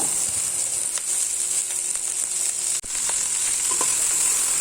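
Carrots and celery for fish chowder sauté in a pot with a steady, close sizzling hiss, broken by a few soft stirring scrapes and one brief clunk.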